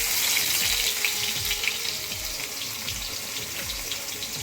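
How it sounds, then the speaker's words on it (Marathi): Garlic sizzles in hot oil in a pot, a dense, close hiss and crackle running steadily with a low rumbling beneath. "आता आपण लसूण टाकतोय."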